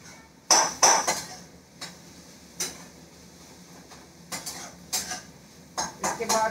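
A spoon stirs carrot and fenugreek vegetable in a metal pot, with a few sharp clinks and scrapes spaced irregularly through the stirring, close and moderately loud.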